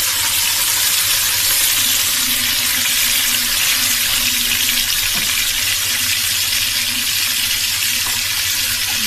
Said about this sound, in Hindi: हल्का सा लहसुन हो गया है, अब मैं इसमें आप डाल दूंगी ये गोश्त।